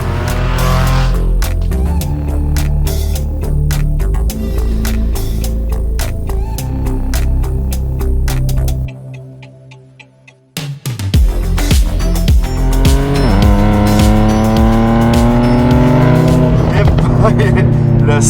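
An Infiniti Q50 Red Sport 400's exhaust roars loudly as the engine revs and climbs through gears on the road, with a brief lull in the middle before accelerating again.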